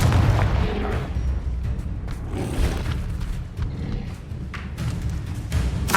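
A Confringo fire spell blasts in Hogwarts Legacy, with dense, continuous booming and rumbling explosions and thuds layered over a busy combat din, loud throughout.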